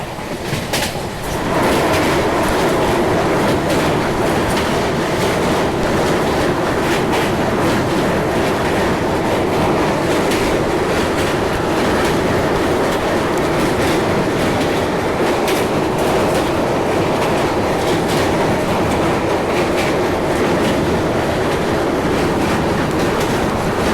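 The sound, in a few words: New Delhi–Jammu Duronto express train running on rails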